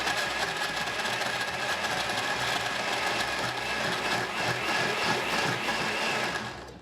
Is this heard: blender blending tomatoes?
yes